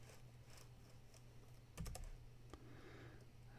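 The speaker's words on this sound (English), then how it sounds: "I'm having trouble typing this morning" Someone types on a computer keyboard while coding, giving faint, scattered keystroke clicks with a brief, louder cluster of taps near the middle, heard close but quiet and with no speech.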